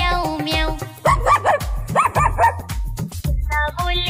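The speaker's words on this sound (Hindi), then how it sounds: "कुत्ता बोले भौं भौं" A dog barks in a Hindi children's rhyme: a few short, bright bow-wow barks over a bouncy musical backing, spaced in a quick rhythm.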